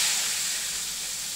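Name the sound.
garlic and onion frying in a pan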